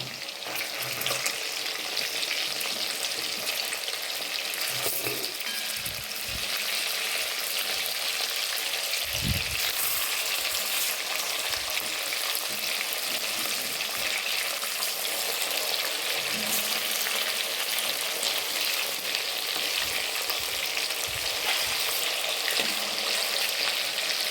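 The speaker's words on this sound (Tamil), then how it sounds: "திருப்பி போடணும் திருப்பி போட போகிறாங்க அம்மா" Chicken fry sizzles loudly and continuously in a pan as it is turned, with a few soft knocks and scrapes of the spatula against the pan under the hiss.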